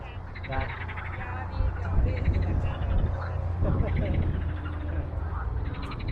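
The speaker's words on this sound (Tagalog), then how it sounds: "Akala ano yung maingay, palaka pala." A dense chorus of frogs croaking steadily in the background, overlapping calls with people talking nearby, near Minsk.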